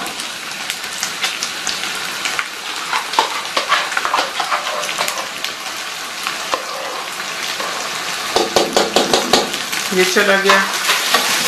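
A chicken pulao mixture with yogurt and green chilies fries in a pot, sizzling loudly throughout while a spoon stirs and scrapes in uneven bursts, with a brief voice speaking near the end.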